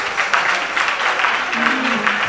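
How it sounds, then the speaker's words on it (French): At a singing contest quarter-final, the audience applauds a contestant with sustained, fairly close clapping, while a faint voice murmurs underneath toward the end. "Applaudissez pour lui."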